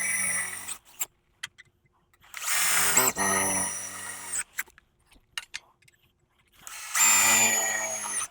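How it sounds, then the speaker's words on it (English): Hole cutter bits in a power drill bore 3/4 inch holes through a panel during a CP8187 installation, three separate loud whirring bursts separated by quiet pauses and small clicks. "we're going to use the can cut bits and drill 3/4 inch holes"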